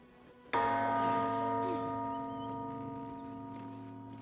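A single bell in the Baldur's Gate III video game is struck once, loud and close, then rings on with a long, sustained tone that slowly fades over several seconds.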